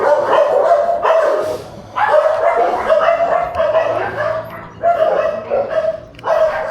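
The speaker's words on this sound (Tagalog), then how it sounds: "Ayun, aso." Dog barking repeatedly near a house during a neighborhood anti-rabies vaccination drive, loud, close bursts of barks in an irregular rhythm with short pauses between volleys.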